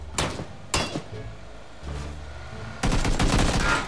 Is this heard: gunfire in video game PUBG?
yes